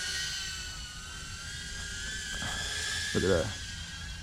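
An Emax Tinyhawk 2 micro drone hovers and drifts on a 1S battery, giving a constant high-pitched whine of tiny propellers that swells briefly near the end. Someone speaks over it.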